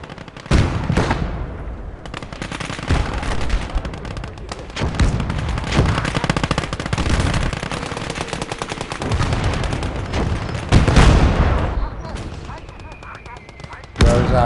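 Heavy gunfire from the World War II strategy game Gates of Hell: Red Star Rising: rapid machine-gun bursts and loud booming big-gun shots crowd the soundscape continuously, with a player occasionally talking underneath.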